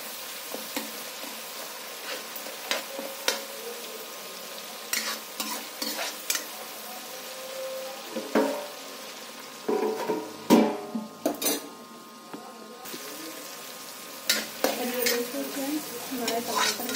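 Tomatoes with spices frying in a pan as a spoon stirs them, with steady sizzling and repeated scraping and clinking against the pan, close and moderately loud, no talking.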